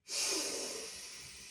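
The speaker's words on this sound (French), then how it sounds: "on inspire par le nez" A single long, deep inhale through the nose during a calming breathing exercise, a close airy hiss that swells quickly and slowly fades over about a second and a half, heard alone.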